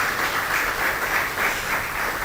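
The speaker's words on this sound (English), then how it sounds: "Let's put our hands together for Iyabo Soji-Okosoya for the opening remarks." An audience at a corporate banking event on non-oil exports claps to welcome a speaker for the opening remarks. The applause is continuous and fairly loud, a dense wash of hands with no talk over it.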